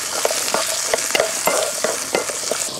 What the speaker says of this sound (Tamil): சின்ன வெங்காயம் போட்டு ஒரு வதக்கு நல்லா வதக்கினதுக்கப்புறம் இஞ்சியும் பூண்டும் சேர்த்துக்கலாங்க.